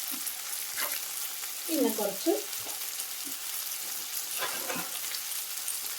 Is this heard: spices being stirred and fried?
yes